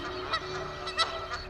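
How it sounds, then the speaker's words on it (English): Geese honk at San Pablo Wildlife Refuge, a wetland of ducks and migrating waterfowl, with several nasal calls over a constant background hum. "San Pablo Wildlife Refuge, home to millions of ducks and migrating waterfowl."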